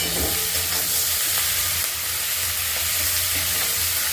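Capsicum and chillies lightly frying in a pan for homemade chilli chicken, giving a steady close sizzle with soft stirring scrapes throughout, no talking.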